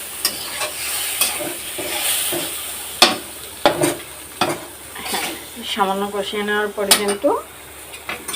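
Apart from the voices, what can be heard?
onions and spices being sautéed in a pan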